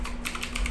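Fast typing on a computer keyboard, close and clear, with a quick run of light key clicks over a faint steady hum and no voices.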